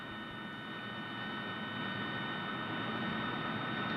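A 1951-era jet engine running steadily, a loud continuous roaring hiss with a high whine on top, growing slightly louder over a few seconds.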